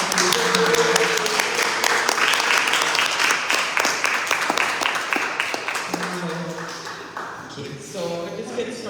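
Live audience applause for an evening lecture speaker, full and steady at first, then thinning out as a voice starts talking near the end.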